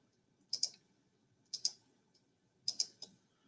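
Buttons are pressed on a graphing calculator running an old operating system, three evenly spaced pairs of quick, close plastic clicks about a second apart against a faint background hum.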